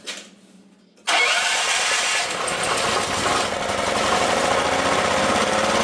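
A repaired generator engine, once seized and pulled from the trash, fires up after a brief quiet moment and settles into a loud, steady running drone that fails to rev up properly, with no governor fitted.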